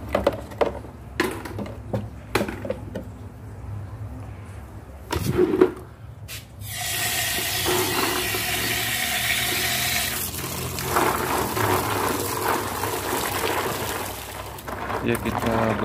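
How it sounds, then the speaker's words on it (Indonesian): Clean water rinsing aquarium biological and mechanical filter media, first scattered clunks and drips, then a steady close splashing stream from about seven seconds on that runs to the end. "filter biologis dan mekanisnya kita bilas saja dengan air bersih tentunya ya"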